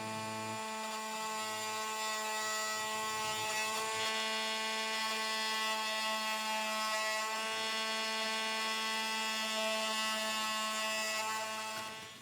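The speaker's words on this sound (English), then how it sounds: "I'm going to use a multi-tool to just cut that little bit out" An oscillating multi-tool cuts a thin strip of wood from beside a door threshold, giving a steady, loud, high-pitched buzzing whine that holds for the whole stretch with no voices.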